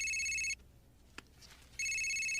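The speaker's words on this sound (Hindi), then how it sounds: "पापा का फोन आया" A telephone rings loudly and alone in two bursts of electronic trilling, with a quiet pause between them and a faint brief click in the gap.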